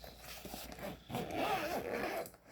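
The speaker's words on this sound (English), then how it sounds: "So this zips up like this." Zipper drawn shut around a Hohner harmonica case, a steady close rasp running about two seconds with a brief pause partway, alone and fairly quiet.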